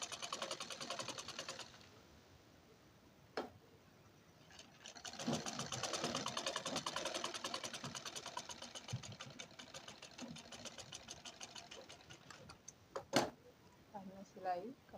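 A sewing machine runs in bursts while stitching a sleeve onto a border blouse, its rapid needle rattle starting and stopping close by, with a few knocks in between and a voice speaking over parts of it.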